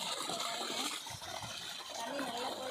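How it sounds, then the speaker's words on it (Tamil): Water from a farm pump set rushes in a steady broadband gush, loud and continuous throughout, with faint voices underneath. "இங்கே பம்ப் செட்டில் தண்ணி போயிட்டு இருக்கு."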